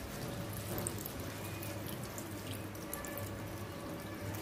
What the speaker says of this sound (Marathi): यात थोडंसं पाणी घालते